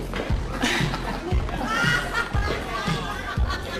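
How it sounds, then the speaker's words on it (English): Cheerful crowd chatter drifts in from a neighbouring room at a holiday gathering, a steady murmur of many voices with occasional rises, muffled as if heard through a wall. "Sounds like a pretty happy crowd in there."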